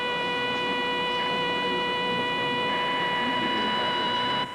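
Personal computers linked over a telephone line in 1981 give off a steady chorus of high, sustained modem tones over faint hiss, holding unbroken for several seconds before cutting off abruptly.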